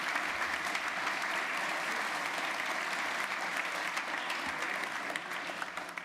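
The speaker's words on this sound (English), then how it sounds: "Can we give him a round of applause?" A lecture audience at the John Adams Institute applauds an author after his talk, a steady, moderately distant wash of many hands clapping that carries on evenly and fades slightly toward the end.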